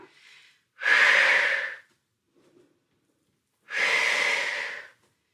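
Two long, forceful breaths during a lower-body workout, each a loud airy rush lasting about a second, separated by near silence, close to the mic.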